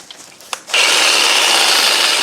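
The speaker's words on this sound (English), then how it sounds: "I use the Sawzall with a Diablo blade" Sawzall reciprocating saw with a carbide-tipped Diablo blade cutting off a ball joint part on a 1996 GMC Jimmy, a few soft knocks and then a sudden loud, continuous buzzing saw run, close and harsh.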